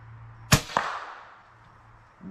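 A Snowpeak M60B air rifle shot striking an apple at an outdoor range: a sharp crack followed a moment later by a second impact snap, then a fading tail and near silence.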